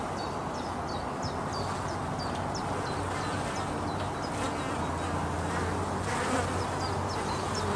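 Honeybees fly at a hive entrance during a spring inspection, making a steady, dense buzz close by. Faint chirps sound in the background and no voices are heard.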